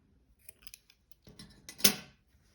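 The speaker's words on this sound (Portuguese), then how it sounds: "Vou cortar aqui o meu fio." Scissors snip through crochet yarn on a braided-edge crochet placemat, a few faint clicks of the blades followed by one louder, close cut.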